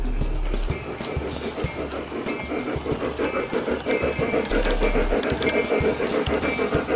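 A battery- and track-powered model locomotive modeled on 1940s Colorado narrow gauge runs on an outdoor garden railroad, giving a steady rolling rumble with wheel clicks and mechanical clatter throughout, fairly close and continuous, with no talking.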